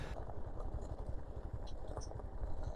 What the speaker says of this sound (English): For some reason, I decided to ride on the right side of this road construction where all the loose gravel